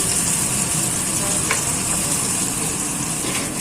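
Eggs frying in a pan give a steady, close sizzle that holds evenly throughout, with a faint clink partway through and no talking.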